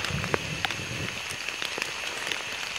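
Heavy rain pours down in a forest, a dense, steady hiss of drops on leaves and ground with scattered sharper splats, close and continuous with no voices.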